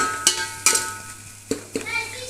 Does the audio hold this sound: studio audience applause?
no